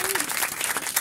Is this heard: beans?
no